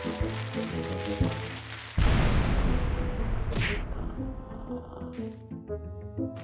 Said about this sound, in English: Let's get started with the good old cannon,